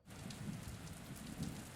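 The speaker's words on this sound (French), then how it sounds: "on peut penser qu'il pleut à verse" Heavy pouring rain, a dense continuous hiss of drops at moderate level, fills a short stretch on its own with no voices.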